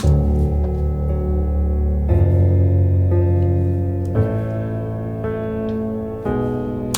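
A piano track arrangement with dense, sustained low chords shifting every second or two under higher notes, full and steady with no voices.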